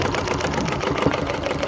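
A sewing machine stitches a log cabin quilt in a steady, fast, continuous whirring chatter, close and fairly loud, with no speech over it.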